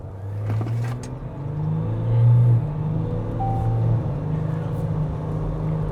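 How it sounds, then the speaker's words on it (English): A V6 diesel dual-cab ute towing a trailer pulls hard, its deep engine rumble swelling and falling under load with gear changes, heard from inside the cab with some faint background tones. "Love the V6 diesel in these just because it has that punch that you need to get up and move"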